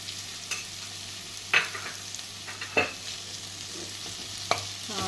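Prawns fry with onions and ginger garlic paste in a continuous, even sizzle, broken by three sharp scraping stirs of a spatula against the pan.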